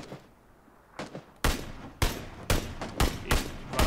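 Gunfire in PUBG, with a run of loud, close shots fired at a steady rhythm about half a second apart, each a sharp broadband crack with a short tail, preceded by quieter distant pops.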